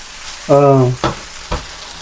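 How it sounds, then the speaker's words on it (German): Rice fries in butter in a hot pan, sizzling, with a short squeaky tone followed by two sharp clatters of a utensil against the pan. "Ich habe Reis mit Butter angebraten"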